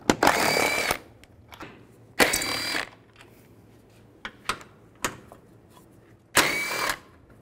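A 10mm socket tool working loose the headlight bolts on a 2007-2013 Mini Cooper S, heard as three loud, sustained mechanical bursts of about a second each, separated by scattered short clicks and taps, with no talking.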